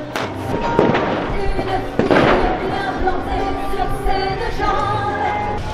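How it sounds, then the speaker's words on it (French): Tear gas grenades bursting at the far end of Place de la Bourse in Bordeaux, sharp booms echoing across the square amid a restless crowd murmur and a continuous loud wash of noise. "des explosions venant du fin fond de la place de la Bourse"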